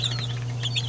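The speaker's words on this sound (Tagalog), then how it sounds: "219 no na mga sisiw na binubrood sa ngayon" Soft, high peeping of native chicken chicks in a brooding pen, several overlapping calls over a steady low electrical hum.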